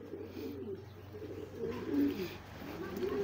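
A blue homing pigeon coos in soft, continuous throaty warbles nearby, rising slightly in the middle, with faint other birds in the background.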